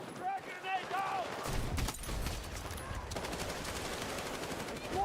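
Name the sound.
frag grenade explosion and gunfire in a video game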